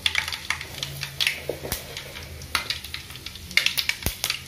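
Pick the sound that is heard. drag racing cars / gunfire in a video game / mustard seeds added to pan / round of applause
mustard seeds added to pan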